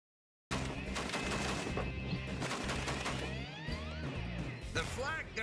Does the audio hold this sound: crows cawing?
no